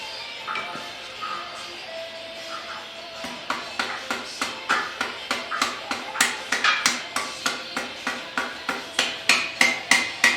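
Steady hammer blows drive a screwdriver, improvised as a punch, against a 1980 Ironhead chopper motorcycle engine during top-end disassembly. The close, sharp metallic strikes come in a fast even rhythm that grows louder toward the end, with no talk.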